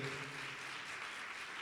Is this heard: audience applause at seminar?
yes